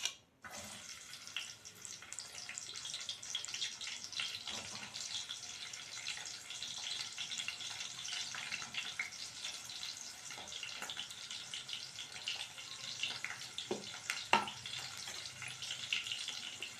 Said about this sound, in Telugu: ఆయిల్ వేడైంది. ఫస్ట్ ఉల్లిగడ్డలు ఇద్దాం.